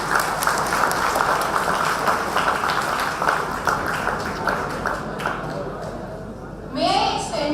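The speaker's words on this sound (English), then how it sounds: "Please give a huge round of applause." Audience applause at an inauguration ceremony for a 5G innovation center, dense sustained clapping from a large crowd filling most of the clip before it fades and a voice begins.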